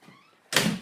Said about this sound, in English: close the doors